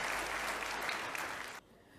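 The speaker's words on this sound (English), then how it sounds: "So can we have a round of applause for our 5 panelists for their excellent sharing?" Audience applause for five panelists at a strategic trade management industry outreach seminar, a dense, steady clatter of many hands clapping that holds for about a second and a half before cutting off abruptly into near silence.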